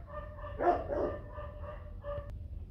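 A fluffy male dog meeting a white fluffy female gives a few short, close barks and yips, with a brief whimpering tone between them, over quiet background hiss.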